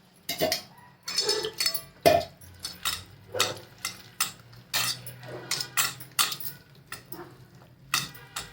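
Spoon whisking a batter for a cauliflower dish in a bowl, a steady run of sharp clinking strokes against the bowl's sides, close and fairly loud with no talk over it.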